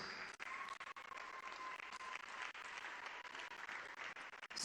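An audience at a formal ceremony for scholarship recipients claps continuously, a dense, even applause heard from a distance at low level.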